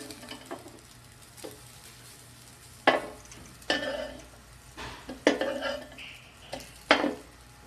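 A homemade burger patty being flipped and moved in a frying pan, with a few sharp scraping and clinking spatula hits over a faint sizzle, spaced irregularly.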